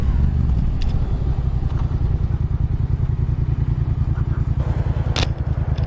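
A motorcycle rides along a road, its engine a steady, loud, close drone with a fast pulsing rumble throughout, broken by occasional light clatter and a brief sharp rattle near the end.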